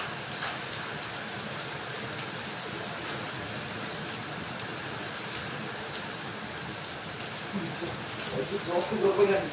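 Heavy hail and rain pour down steadily during an evening hailstorm in a village, with a dense wash of drops hitting surfaces throughout and a few louder clattering impacts building near the end.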